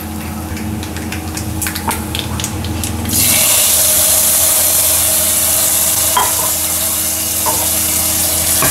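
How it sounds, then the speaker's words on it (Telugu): Dal tipped into hot tempering in a pan for gongura pappu, sorrel leaf lentil dish, a sudden loud sizzle bursting in after quieter stirring and clinking, then steady frying hiss with occasional scrapes. "ఇప్పుడు ఈ తాలింపునెత్తి మనం పప్పులు వేద్దాం."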